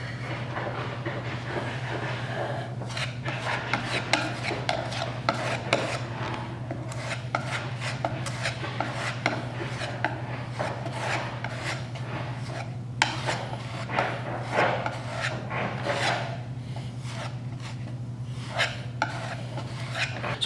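Wood filler scraped and spread across a 3/8-inch red oak strip floor, a steady run of short rasping, rubbing strokes close up over a constant low electrical hum.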